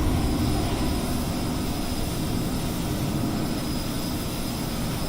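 Loud, steady aircraft engine roar from outside the plane in a flight simulator game, a dense continuous drone that fills the soundscape without pause or speech.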